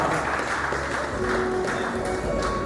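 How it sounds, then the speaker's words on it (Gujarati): An audience at a Dhodia community family convention in Dadra and Nagar Haveli stands and applauds, making a dense, continuous wash of clapping that stays even and full throughout. "એમને દરેક વ્યક્તિએ ઊભા થઈને તાળીઓ પાડી સન્માનનો સ્વીકાર કર્યો છે"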